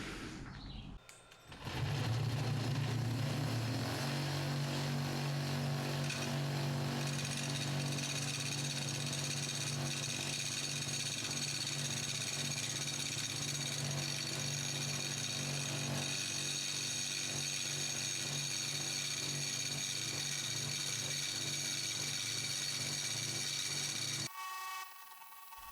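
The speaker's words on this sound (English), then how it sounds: "the hollowing rig shouldn't be hitting on the steady rest either, because we're just going straight in and out" A wood lathe fitted with a hollowing rig and steady rest turns out the inside of a wooden vase, giving a steady, loud whirring drone that runs almost unbroken for more than twenty seconds with no talking.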